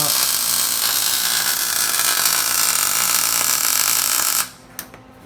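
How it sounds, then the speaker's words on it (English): Welding on a Nova wagon's car wheel tub, a loud, continuous crackling buzz of the arc that stops sharply near the end, followed by a couple of faint clicks. "Got one side in, so I'm welding this side"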